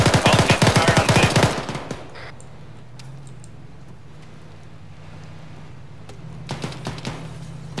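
Rapid bursts of automatic gunfire aimed at an enemy vehicle in a military video game, loud and dense for the first two seconds, then fading to a low rumble with faint distant shots near the end.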